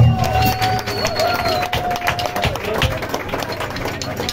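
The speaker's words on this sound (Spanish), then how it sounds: "quiero pedir un aplauso gigante para ellos" A concert audience applauds a band at a live show, the crowd's clapping spreading in a broad, steady wash under music and stage sound for several seconds.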